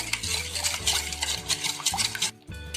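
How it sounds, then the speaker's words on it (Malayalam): Sugar being stirred in a pan until it melts, for a homemade bread pudding: a continuous close scraping and clinking of a utensil against the metal pan in quick repeated strokes, loud and alone. "ഇതൊരു ബ്രൗൺ കളർ ആവുന്ന വരെ, അല്ലെങ്കിൽ പഞ്ചസാര ഒന്ന് മെൽറ്റ് ആവണ വരെ നമുക്കൊന്ന് മിക്സ് ചെയ്ത് കൊടുക്കാം"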